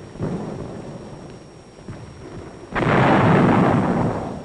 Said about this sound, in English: 105mm howitzer named Joe